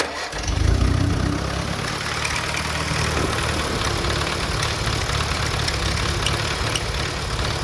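A Farmall Cub tractor engine, just fitted with new Delco spark suppressors, cranks and catches, then settles into a loud, steady running rumble with no one speaking.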